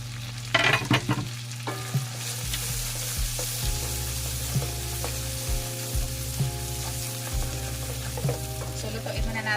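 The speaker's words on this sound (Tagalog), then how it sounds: "lutuin muna natin yung ating garlic tsaka onion" Garlic and onion sauté in a pan with a continuous sizzle and scraping stir strokes, over a steady low hum, with louder crackling bursts near the start.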